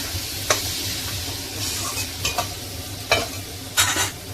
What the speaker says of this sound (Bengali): এর মধ্যে আলু দিয়ে দিয়েছি, আর আলুর সাথেও ভালো করে কষিয়ে নেব